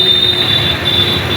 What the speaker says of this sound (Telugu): ఇది రైల్వే స్టేషన్ గుంటూరు.